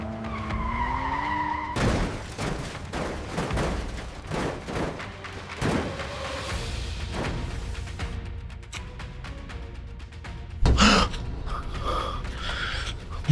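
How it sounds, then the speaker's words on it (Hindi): A car skids and flips over in a loud sound effect of screeching, scraping and tumbling impacts, with a heavy crash partway through and gasping breaths at the start. "गाड़ी पलट गई।"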